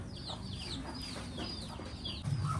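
A chicken clucks repeatedly in a kitchen in a series of short, moderately near calls, with a louder low burst of noise near the end.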